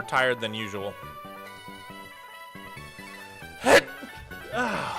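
A single sharp sneeze bursts out near the end of a short stretch of casual talk, loud and brief, with speech before and after it.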